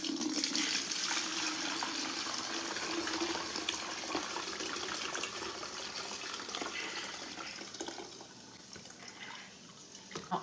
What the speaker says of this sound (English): pass it through a fine mesh sieve into this pitcher, and then pour the pitcher into mason jars